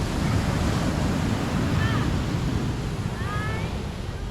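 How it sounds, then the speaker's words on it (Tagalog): Sea surf crashing on the shore during an out-of-town holiday trip, a continuous loud roar of breaking waves with wind buffeting the microphone and faint birdlike chirps above. "dinig na dinig mo yung hampas ng dagat"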